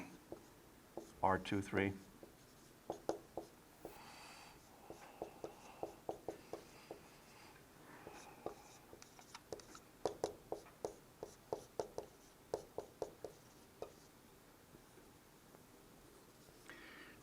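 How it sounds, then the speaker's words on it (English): Chalk or pen writing by hand during a heat transfer lecture on thermal radiation networks, a run of short tapping and scratching strokes in bursts across the span, close by, with a lecturer's voice speaking briefly. "I'll write down"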